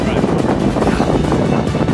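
Strong wind buffeting a boat at 30 knots, a loud steady roar of gusts over the microphone with some water noise mixed in.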